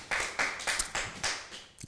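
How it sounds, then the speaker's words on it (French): An audience at a talk on the education of young women applauds in a short burst, the claps landing in a steady, almost rhythmic pattern of separate loud hits that fade toward the end. "On acclame encore une fois."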